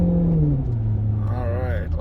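Maserati Quattroporte Sport GTS engine giving a steady, low, loud drone throughout, with a voice talking over it.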